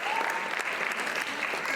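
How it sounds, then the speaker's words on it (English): Dense, steady applause from an audience at a Rangapravesam dance debut recital, a continuous loud wash of many hands clapping with a murmur of crowd beneath. "Big round of applause for Harika."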